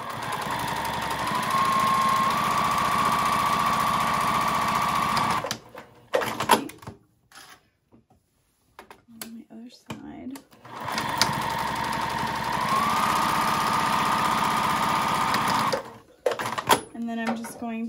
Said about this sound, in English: select like a 4 or a 3 stitch length and go across the top and the bottom